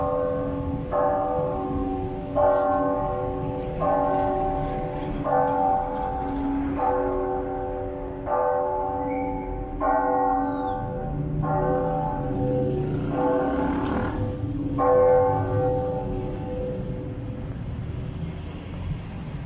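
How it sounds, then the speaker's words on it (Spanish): Church bells in Durango, Mexico ring out in a slow, regular series of resonant strikes, with wind noise in the background. "Qué agradable es el sonido de las campanas"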